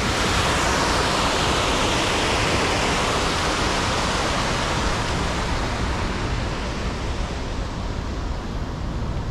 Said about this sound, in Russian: Водопадик такой небольшой.